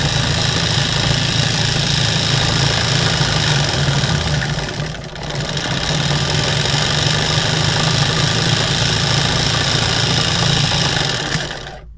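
A small DC motor kit running on 7.2 volts, spinning with a dense, continuous buzzing whir that stays loud and close for the whole stretch, with only a brief dip midway.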